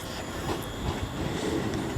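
Train 35407 runs through Wolverhampton station on the West Coast Main Line with a steady, broad rumble of wheels and rail noise that holds an even level throughout and has no voices over it.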